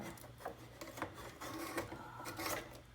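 A coffee machine starts up and dispenses into a mug: a steady mechanical whirring and rattling with irregular clicks and surges, close and fairly quiet, with no voices.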